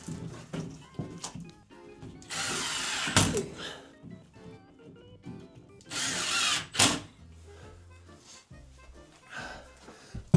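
A power drill drives screws during renovation of a 1980s house, giving bursts of whirring motor and screw grind close by, separated by knocks and clunks of handling, with some faint talk.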